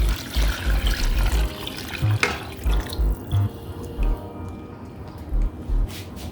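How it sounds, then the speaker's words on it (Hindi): Water pouring into a cooking pot of rice and lentils for khichdi, a steady splashing gush that eases into lighter trickling, with soft knocks underneath. "तो अभी इसमें पानी डाल देती हूँ।"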